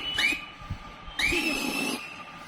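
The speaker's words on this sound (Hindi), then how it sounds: "तो देखिए वैज्ञानिक जो है वो आज इस पल पर सीटी बजा रहे हैं" Scientists at the ISRO command centre whistle in celebration, two shrill whistles in quick succession, the second longer and sliding, over a low murmur of the room.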